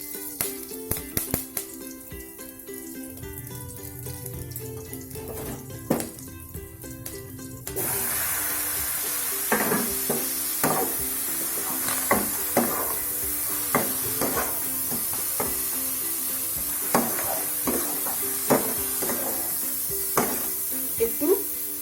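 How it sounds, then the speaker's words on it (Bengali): Curry leaves tempering in hot oil in a pan for a cabbage dish, starting with faint clatter and then a loud, steady sizzle with scattered stirring clicks, close by. "আমরা কারি পাতাটাকে সম্বারা করছি।"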